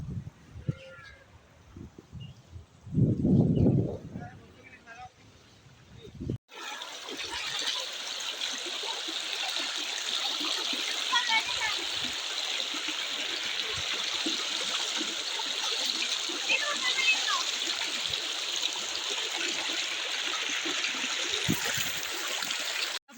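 A river flows past its bank in a soft, continuous trickle and gurgle that runs steadily for most of the stretch, with wind and brief talk near the start before the water takes over.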